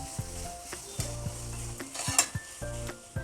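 Vegetable noodles with soy and tomato sauce are tossed in a pan over low heat, soft sizzling under repeated scraping and clinking strokes, fairly quiet and close.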